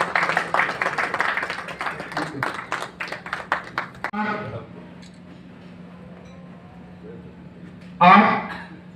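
An audience at a contractors' association meeting in Burnpur, Asansol claps in a dense burst of hand claps for about four seconds. Voices and a low steady hum follow, then a short swell of noise near the end.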